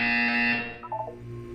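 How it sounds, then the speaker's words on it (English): Electronic buzzer from the video game Portal, a steady tonal alarm-like drone that sounds for about half a second and then fades, followed by a few faint blips. "You will hear a buzzer."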